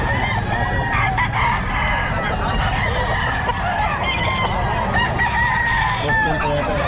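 A Boston Sweater gamefowl rooster at a fowl gathering in Bocaue crows loudly and close amid clucking birds, with voices murmuring in the background.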